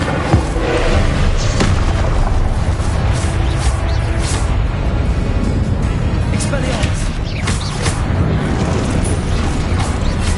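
A fire spell cast in the Hogwarts Legacy video game: a loud, dense roaring burst of flame and magical blast that stays steady and full for about ten seconds, with deep rumbling throughout.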